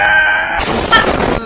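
Gunfire in a shooting video game aimed at grass: after a steady tonal hum, a sudden burst of dense, loud shot noise bursts in and rattles on for almost a second before cutting off.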